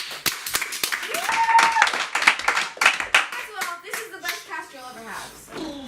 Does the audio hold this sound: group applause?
yes